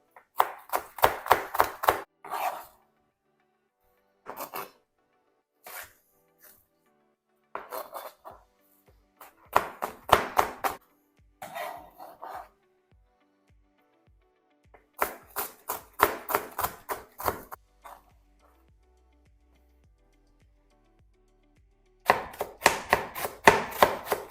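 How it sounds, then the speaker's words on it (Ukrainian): A knife chops fresh wild garlic and greens on a cutting board in quick rhythmic bursts of sharp taps, pausing between runs, close and clear with no talking. "зараз я наріжу усю зелень і теж відправлю сюди до помідор"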